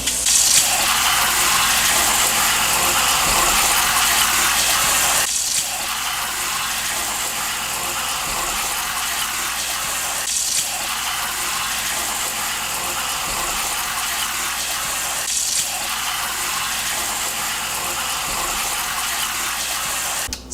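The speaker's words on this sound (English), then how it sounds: "get all of this produce washed, cleaned, and then set aside what I'm working with" Fresh produce is rinsed under a running kitchen tap, a steady broadband gush of water close by with brief breaks and shifts about every five seconds as items are turned and handled, no voices.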